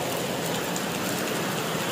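Heavy monsoon rain falls beside a cowshed at an ashram in Khopoli, a constant close hiss of drops drumming on surfaces, even and uninterrupted with no one speaking.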